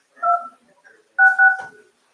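Two short electronic dialing tones, the second a longer double beep, sound clearly on a phone line with brief quiet between them.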